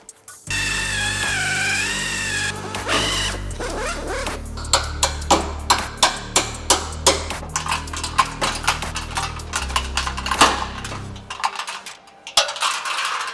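A power drill whines steadily drilling out spot welds on a Dodge Charger Hellcat chassis leg, then a run of sharp metallic clanks and taps follows in an uneven rhythm, close and loud.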